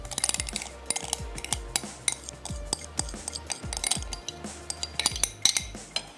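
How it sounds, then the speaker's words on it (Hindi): Mashed potatoes are added to oil in a pan and stirred, with repeated metal clinks and scrapes of a spoon against the pan at an irregular pace, close and fairly quiet. "इसमें मैं शामिल करने जा रही हूँ ये मैश हुए हुए आलू"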